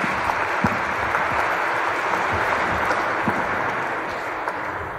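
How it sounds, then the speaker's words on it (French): A church congregation at an intercultural Mass applauds the young participants, steady dense clapping filling the whole stretch at an even level, with no talking over it. "On peut les applaudir"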